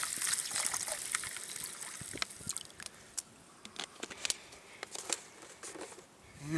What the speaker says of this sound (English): Next thing is we're going to throw some water in there.